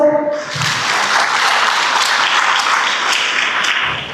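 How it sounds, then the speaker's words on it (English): Audience applause at a graduation ceremony, a loud steady wash of many hands clapping that rises quickly after a brief voice at the start and carries on for several seconds before tapering. "Let's clap for Susan."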